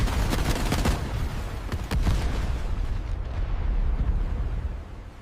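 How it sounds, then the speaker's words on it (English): Bomb explosions and gunfire during the Pearl Harbor attack, a loud sustained roar of blasts with sharp bursts of shots in the first two seconds, then a continuous rumbling wall of noise. "A huge explosion erupted, and a huge column of fire and black smoke shot into the sky"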